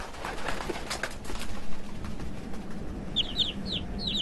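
Small birds back from wintering in the Greater Khingan spring forest, a short series of bright chirps and calls arriving toward the end over a muffled rustling background.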